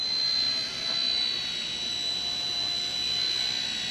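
A small RC spy helicopter makes a full-speed flyby, producing a steady high-pitched motor and rotor whine with a slight dip partway through, close and fairly loud.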